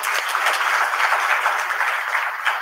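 An audience at a CEO talk applauds steadily, a dense even wash of clapping from many hands throughout, with no speech over it.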